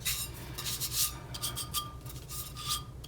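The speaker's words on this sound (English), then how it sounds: "So don't be afraid to rub your glitter." Glitter is rubbed by hand over a resin-coated tumbler, producing a close, bright, gritty rasping in repeated short strokes and a nearly steady rhythm, with no voices.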